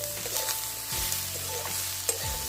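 Ginger-chili paste fries in a pan for a cauliflower singara filling, a steady close hiss of sizzling oil with a few faint stirring taps and no voices.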